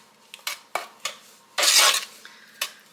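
A spoon scrapes and clinks against a pot while sugar and butter melt together for fudge, a few separate knocks and one longer scraping sweep, close and moderately loud with no talking.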